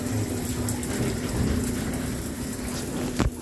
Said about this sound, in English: Just finished my shower, guys. This is what it looks like when you turn it on.